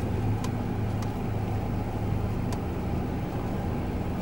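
A car turning slowly during a driving lesson, a steady low engine and road rumble heard from inside the cabin with faint clicks over it, no voices.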